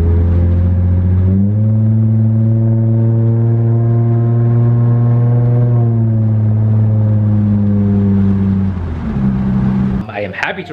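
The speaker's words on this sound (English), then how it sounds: "I'm probably just gonna drive it down the street" A Lexus IS250 engine hums steadily and shifts pitch as it drives along after a transmission drain and fill, rising and settling through gears, ending with a rough rustle.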